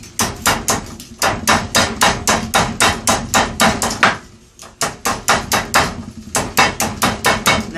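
Rapid, regular hammer taps on a metal rose clamped in a vise, striking close and loud in quick bursts with a short pause midway and near the end, no talking.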